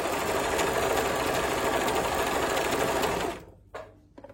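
An overlock sewing machine runs at speed with its blade trimming a fabric edge, tension set to 4 and the knife at its narrowest, giving a loud continuous whirring buzz that stops abruptly near the end, followed by a few faint clicks.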